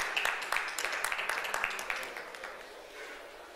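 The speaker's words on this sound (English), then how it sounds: "A round of applause to welcome Mr." Audience at a business conference claps to welcome a panel speaker: a moderate, distant patter of many hands that tapers off and fades out over a few seconds.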